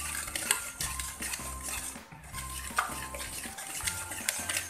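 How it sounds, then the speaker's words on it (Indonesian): Brownie batter of rice flour with cocoa powder, salt and baking soda is stirred in a bowl, with a steady rhythm of utensil scraping and clinking against the dish, close and fairly loud, no voices. "setelah itu coklat bubuknya kita masukkan juga, garam dan juga soda kue. Ini akan kita aduk rata ya teman-teman."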